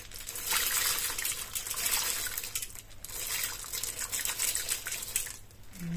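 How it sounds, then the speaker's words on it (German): Sunflower seeds, 100 grams, poured into a Thermomix mixing bowl for spelt bread, a close rattling patter of many small seeds landing in two long bursts with a short pause between. "kommt in den Mixtopf Sonnenblumenkerne, 100 Gramm"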